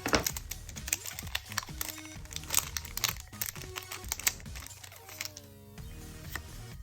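A Pokémon card booster pack is torn open by hand, its foil wrapper crinkling and crackling in close, busy bursts that run throughout, then settling into softer rustling of the cards.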